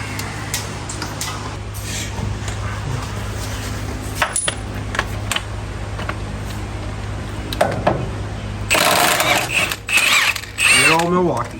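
Milwaukee power tool ratcheting bolts off a Honda Civic engine during power steering pump work, with clicking mechanical ratchet bursts and metallic clatter, then louder buzzing runs near the end, close by, with some talking.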